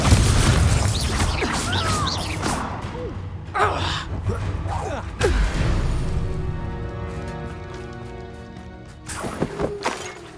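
Confringo fire spell blasts in Hogwarts Legacy on PS5: several sharp bursts and booms spread across the stretch, a louder one near the end, amid game effects and a brief voice.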